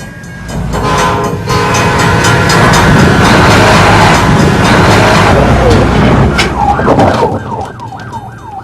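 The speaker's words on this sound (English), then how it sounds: "A train is coming." A loud train roars past close by, rumbling and clattering, while a horn blares over it; a warbling siren-like tone rises as it fades.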